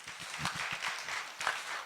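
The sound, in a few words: audience applause welcoming children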